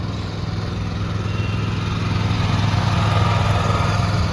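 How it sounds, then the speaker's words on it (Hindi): A 12 hp Honda GX390 engine, coupled directly to the gearbox of a Swaraj power tiller, runs at a steady, loud drone that swells slightly toward the end, with no voices. "12 हॉर्स पावर का होंडा का इंजन लगा हुआ है, ओरिजिनल होंडा का आप देख सकते हैं।"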